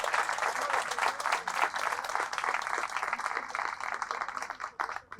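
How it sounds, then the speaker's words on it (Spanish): A church congregation applauds in honour of the Virgin Mary during a Catholic service, dense sustained clapping from a crowd that fills the whole stretch and thins slightly toward the end. "Fuertes aplausos a nuestra Madre Santa, la Virgen María."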